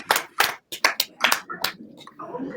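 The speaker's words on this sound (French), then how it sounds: "Vous pouvez juste applaudir peut-être pour faire exploser l'écran." Audience clapping at a film screening Q&A for Bend It Like Beckham, several separate bursts of claps close by, the last part fading into faint murmur.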